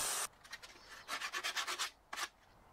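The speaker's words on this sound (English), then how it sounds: "you can minimize the effort by using a power file like this" Power file smoothing a cut end of wooden skirting board at an internal corner, heard as a brief loud burst followed by a series of short, rhythmic rasping sanding strokes and one final burst, close and with no talk.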